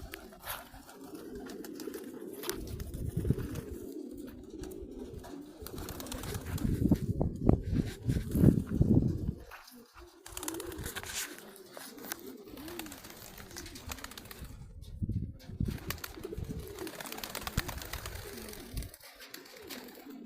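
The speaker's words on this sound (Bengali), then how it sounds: "খেলাধুলা করতেছে পাখিগুলা, কবুতরগুলা।" Pigeons coo in a loft out in the Saudi Arabian desert, a steady low warbling chorus that swells loudest midway and carries on throughout with occasional wing rustles.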